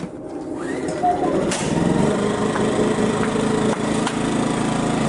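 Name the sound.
Westinghouse iGen2200C portable inverter generator starting and running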